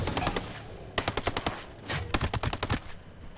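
SMG with extended 50-round magazines firing in Ghost Recon Breakpoint, rapid bursts of automatic gunfire in several close, loud strings separated by short pauses.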